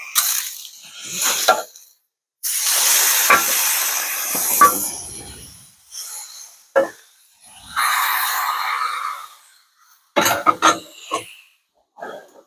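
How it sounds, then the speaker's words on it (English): A steak sizzles on a grill beside a GMC motorhome, bursts of loud hissing broken by brief quiet gaps and sharp spatters, with no talking. "Oh, it's time for that steak to get flipped."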